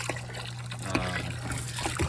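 Water flowing from a pump into a barrel for a DIY Halloween decoration, a continuous trickling, splashing stream with a low steady hum underneath.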